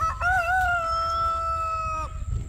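A rooster on a homestead crows once, a long, loud, wavering call held for about two seconds before breaking off, with a low rumble of outdoor background noise beneath it.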